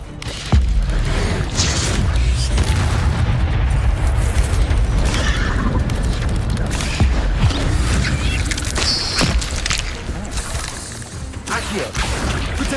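Spell explosions in Hogwarts Legacy, fire and stunning spells going off, form a dense, loud barrage of booms, crashes and bursts that continues without a break.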